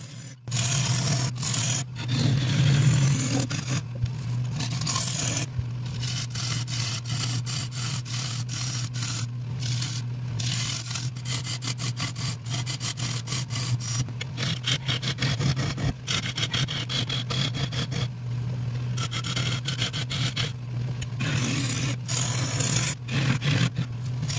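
Sissoo wood bowl being hollowed on a lathe, a continuous low hum from the machine with a steady scraping and rubbing of the tool against the wood, broken by brief gaps.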